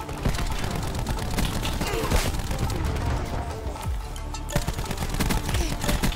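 Dense gunfire in Call of Duty: Black Ops 4 multiplayer, with steady overlapping shots and bursts running throughout under talk, a few sharper cracks standing out near the start and end.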